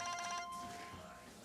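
A mobile phone rings with a quick warbling electronic tone that fades into a faint hum, quiet and brief, with indoor room noise around it.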